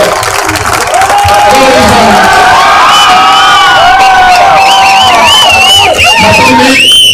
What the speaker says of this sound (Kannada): ಅವರಿಗೆ ನಾವು ಜೋರಾಗಿ ಮತ್ತೊಮ್ಮೆ ಸಂತೋಷದಿಂದ ಚಪ್ಪಾಳೆಯನ್ನು ಹೊಡೆದು